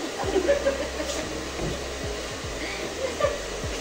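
A hair dryer blows steadily and close by in a salon during a hair colouring session, a constant whooshing drone with faint chuckling and soft voices underneath.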